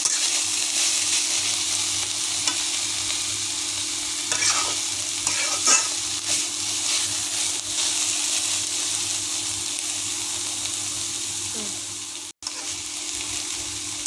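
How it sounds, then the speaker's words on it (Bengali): Banana flower curry fries in a pan with a continuous low sizzle, broken by a few scraping stirs with a spoon, steady and close with no talking. "তরকারি ভালো করে নেড়ে দিতে হবে, একটু করে নেড়ে দিতে হবে।"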